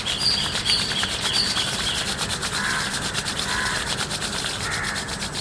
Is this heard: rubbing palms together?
yes